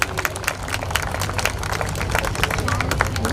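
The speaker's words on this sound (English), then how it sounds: "Wow, big round of applause." An outdoor crowd at a Bandra beautification drive event claps in a dense, sustained patter of overlapping hand claps at moderate volume, with no clear peaks.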